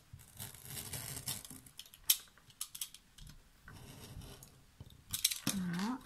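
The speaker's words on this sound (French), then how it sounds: "Et je vais venir couper d'un point à l'autre." Scissors cut a paper or fabric piece straight from one marked point to another while making a small Traveler-style notebook, giving soft close snipping and slicing sounds in short bursts, with quiet handling noise and a brief voice near the end.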